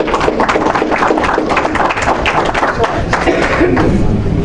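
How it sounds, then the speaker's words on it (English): A dinner-event audience breaks into a round of applause for an EMS paramedic guest speaker, dense steady clapping with crowd noise filling the room at a constant level throughout. "Let's give him a, uh, a round of applause"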